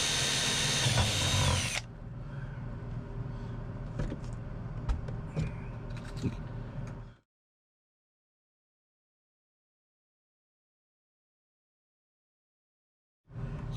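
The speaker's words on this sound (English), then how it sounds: "Sometimes you got to use your rivet gun to help push the rivets all the way through." A rivet gun sets rivets in new cabinet doors, giving a close, whirring mechanical run with clicks and pops for several seconds before the sound drops to silence, with no talking.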